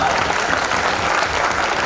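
Audience at a live comedy poetry show claps steadily, a dense, even round of applause filling the whole short stretch at fairly close range.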